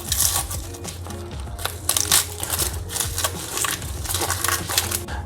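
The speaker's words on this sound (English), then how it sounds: "is to go ahead and cut that outside layer off to peel it." A knife trims the outer layer off an onion on a kitchen board, making close, crisp crunching and crackling cuts in a dense, irregular run.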